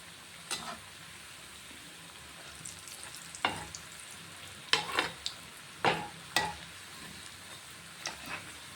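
Parippu vada, Kerala lentil fritters, frying in hot oil in a pan: a steady background sizzle broken by several sharp scraping clinks as the fritters are turned over, with no talking.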